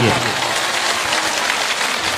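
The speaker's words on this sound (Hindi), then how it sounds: "एक बार उनके लिए जोरदार तालियों से उनका इस्तकबाल करिए।" Loud, sustained applause from a mushaira audience at an All India Mushaira in Mau, a dense steady wash of clapping that holds without a break.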